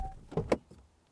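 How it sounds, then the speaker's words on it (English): A RAM TRX Final Edition pickup's door being shut: a faint, muffled pair of quick thuds with a short electric whine before them, heard at a distance with no talk. "This is what the door slam sounds like."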